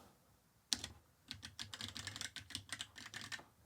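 A new A1200NET mechanical Amiga keyboard, not in any case, is typed on closely: one sharp keystroke, then a rapid, continuous run of crisp clacking keys.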